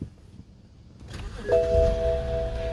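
A BMW engine with a cylinder 2 misfire cranks and fires up, a starter whir catching into a rough idle accompanied by a steady chime tone, loud and close with no talking.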